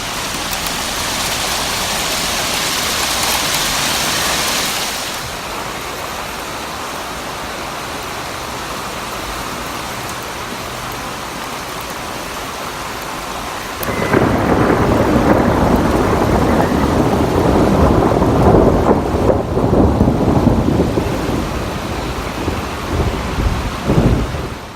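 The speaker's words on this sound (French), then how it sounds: "un orage s'est produit sur Amiens" A thunderstorm over Amiens brings steady heavy rain and a long rumble of thunder, then a louder, harsher downpour rushes in close and dense, with no voices.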